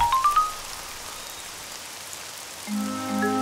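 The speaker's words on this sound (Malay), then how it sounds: "Kenapa hujan tiba-tiba?" Sudden rain in a cartoon scene, a steady broadband hiss of falling rain that runs the whole time, with a few brief chime notes at the start and a low sustained tone swelling in near the end.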